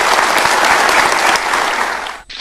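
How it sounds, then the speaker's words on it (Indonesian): Studio audience at an Indonesian TV talk show bursts into sustained, dense applause for two guests, loud and steady, then cutting off abruptly near the end. "Oke, boleh dikasih tepuk tangan untuk dua tokoh ini."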